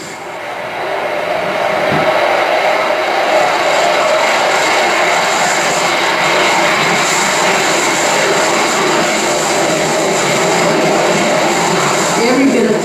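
Navy jet aircraft roaring overhead while practicing carrier-style landings and full-thrust takeoffs on Whidbey Island, Washington; a loud, continuous broadband engine roar that swells in and holds steady for the whole span, with no talk.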